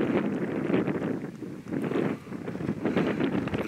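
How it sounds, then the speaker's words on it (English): Strong gusty wind buffets the microphone outdoors on open ranch land, a loud, rumbling roar that surges and dips in waves, with no voices. "It's real windy right now."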